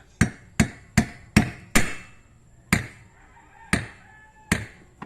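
Eight sharp, gentle hammer taps on a nail while making a toy telephone, close and fairly light, in an uneven rhythm with short pauses between strikes; no talking.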